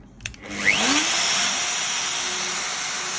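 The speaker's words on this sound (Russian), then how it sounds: "фрезер Makita 3612C в отличном рабочем состоянии." A 2014 Makita 3612C plunge router, made in Japan, starts after a click and winds up with a rising whine. It then settles into a loud, steady high-pitched motor roar.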